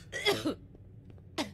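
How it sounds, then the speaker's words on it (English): Two short coughs from a character in Fallout 4, set inside a Vault-Tec vault: a rough, throaty burst followed by a brief second cough after a quiet gap, fairly close and moderately loud. "That sounds like a COVID cough"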